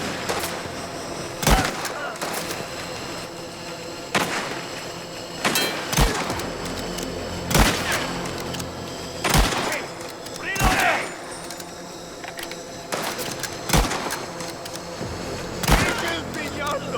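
Bursts of gunfire in the video game Mafia: The Old Country, sharp loud shots spaced every second or two across a battle scene with rumbling background, a player talking over the action.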